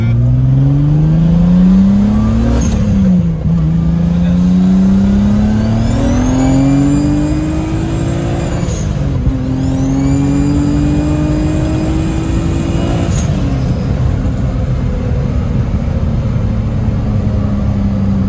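A car fitted with a worn GT3076 turbo accelerates hard. The engine note climbs loud and close through several gears, with brief dips at each shift before it rises again.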